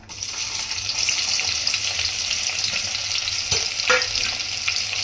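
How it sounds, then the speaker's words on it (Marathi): Bay leaf and chopped onion frying in hot oil for a Malvani chicken curry, a steady, close, dense sizzle throughout with a couple of brief clatters from stirring. "आपलं तेल गरम झालं आहे त्याच्यामध्ये आपण आता ह्या तेजपत्ता टाकायचा आहे त्यानंतर कांदा कापून घेतला होता मी एक तो टाकून घेऊया"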